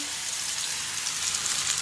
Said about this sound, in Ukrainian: наливаємо набагато олії, кидаємо драників два, бо один то завеликий, два драники кидаємо